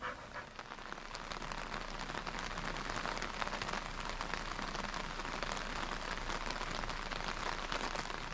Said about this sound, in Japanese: 雨がすごく強くなってきて